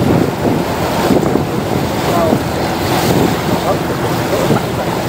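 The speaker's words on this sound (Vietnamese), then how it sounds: "Nhìn con tàu rẽ sóng mà nhìn rất đẹp ạ." A tourist boat on a broad river near a floating market pushes through the waves. A constant loud rush of water and wind-buffeted churning sounds close to the microphone, with no clear voices.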